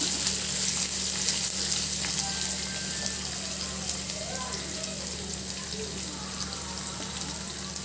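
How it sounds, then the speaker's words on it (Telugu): Chopped ingredients frying in a pan, a steady dense sizzle with a constant background hum, close and even throughout. "వేసి బాగా ఫ్రై చేసుకోవాలండి."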